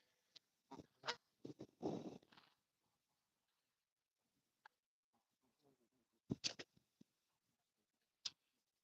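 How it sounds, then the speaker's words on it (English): Canada geese honk near a pond in scattered bursts: a cluster of loud honks, then a long lull with faint calls, then another loud burst and a final lone honk, some near and some farther off. "Okay, seriously, Canada geese are a nuisance."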